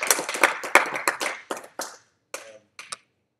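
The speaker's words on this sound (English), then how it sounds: "So round of applause." A small seminar audience at a computer science paper-reading meetup claps for a speaker. Brisk, fairly near clapping runs for about two seconds and then thins to a few scattered late claps before stopping.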